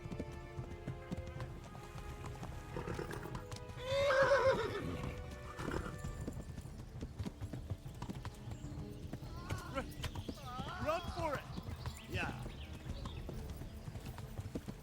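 Horse hooves clip-clop at a gallop in the medieval game Kingdom Come: Deliverance, with a loud whinny near the four-second mark, steady rhythmic hoofbeats throughout and game ambience beneath.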